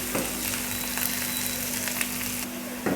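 Chopped onion and green chili frying in a pan for okra bhaji, a steady close sizzle running through the whole stretch with a few soft stirring scrapes and no voices.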